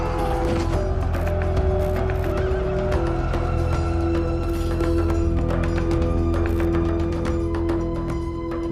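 Horses in a Roman frontier army scene whinny loudly over a dense, continuous bed of mechanical and crowd-like noise, with scattered sharp clip-clop knocks throughout.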